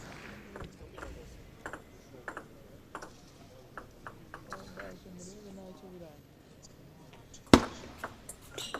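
Table tennis ball hits ring out as crisp, sharp ticks in a quick rally at an Olympic qualifying match, under continuous commentary, with a loud clack near the end.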